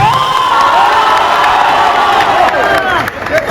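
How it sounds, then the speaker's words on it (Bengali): A large crowd at a live event roars with loud, sustained cheering, whoops and applause for the producers, close and dense throughout with shouting voices mixed in. "একটা খুব বড় খুব জোরে হাততালি প্রযোজকদের জন্য"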